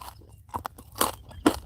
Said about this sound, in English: eating corn nuts